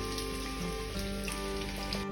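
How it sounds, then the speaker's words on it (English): Potatoes frying in hot oil in a pan while fish and chips are being made, a steady dense crackling sizzle with faint popping, close and constant throughout, with no talking. "Fry the potatoes in a hot oil."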